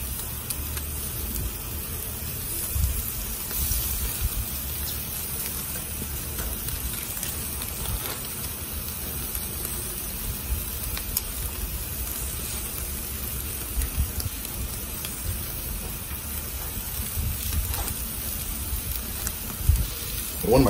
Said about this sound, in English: Get some nice sizzle on these.